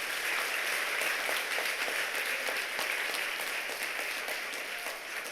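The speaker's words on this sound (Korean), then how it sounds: "하나님께 영광의 박수를." Steady applause from a large church congregation at a revival service, sustained and even, with scattered sharp claps throughout.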